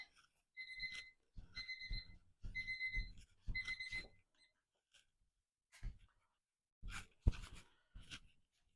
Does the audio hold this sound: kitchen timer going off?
yes